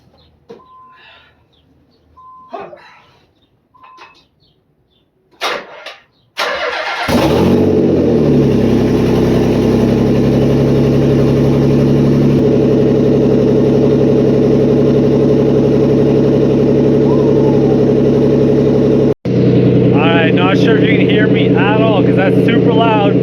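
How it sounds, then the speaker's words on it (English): After some faint shuffling and clicks, a Nissan 300ZX with big turbos and no exhaust past the downpipe fires up and idles loudly with a harsh, raw roar that continues steadily, briefly cutting out near the end. "Super loud, zero exhaust, just downpipe, but she's running really, really good."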